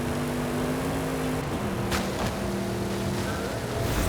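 Ferrari engine in the racing game Forza Horizon 5, a loud, sustained engine drone with pitch shifts and a brief rising rev partway through, heard alone without talk.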